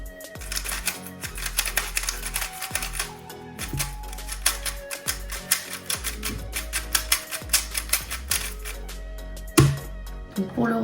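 A Moyu Weilong v10 AI smart speed cube being turned quickly by hand, a close series of sharp plastic clicks and clacks in uneven bursts, fast turning sequences broken by short pauses.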